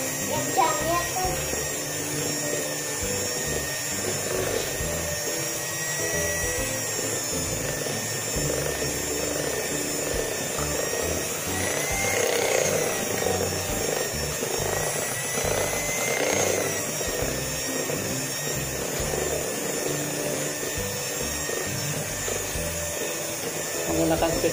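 An electric mixer beats eggless martabak manis batter at low speed, giving a steady, even motor whir that runs throughout at moderate volume, with a voice talking over it.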